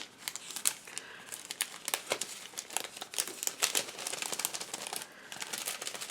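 Snowy shaker filling sprinkled into a handmade Christmas card gives soft, close crinkling and crackling rustles in uneven bursts, faint, with no talk.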